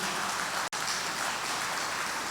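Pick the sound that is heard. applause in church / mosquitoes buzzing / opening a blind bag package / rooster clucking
applause in church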